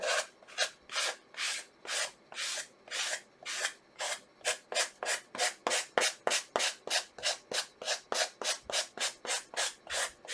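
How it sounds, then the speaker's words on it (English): Rhythmic back-and-forth sanding strokes, about thirty in a row, gradually speeding up, close and steady with no voices. "Now it does take quite a bit of sanding to get these off"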